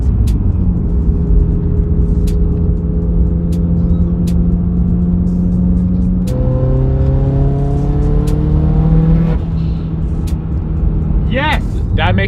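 A rebuilt car engine, with a newer Evo 8 also mentioned as owned, idles loudly up close with a steady tonal drone, then revs up and settles in stepped pitch changes, ending with a quick rising rev.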